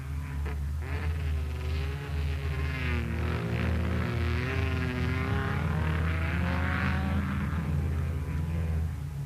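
A Suzuki 750 racing at a 1990 sand track event in Iceland, its engine roaring loudly and steadily with rising and falling pitch as it runs, close and continuous, with no talk.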